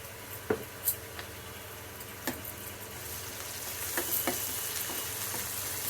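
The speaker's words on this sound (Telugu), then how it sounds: "అల్లం వెల్లుల్లి పేస్ట్ వేస్తున్నాను" Ginger garlic paste frying in hot oil for a cabbage fry curry, a continuous loud sizzle with a few sharp pops and spatters scattered across it, no talking.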